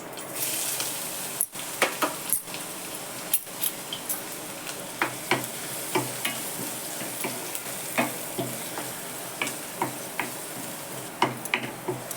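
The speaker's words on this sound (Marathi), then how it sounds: "दोन तीन पाकळ्या लसणाच्या घालते फोडणीला कांदा घालते" Onion sizzles softly in hot spiced oil with garlic cloves, a gentle frying hiss punctuated by repeated clinks and scrapes of a spoon stirring the pan.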